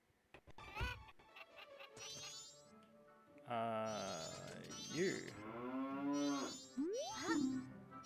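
Cows mooing on a farm in Majora's Mask HD, several long, loud, drawn-out moos one after another with brief game chimes in between, close and clear.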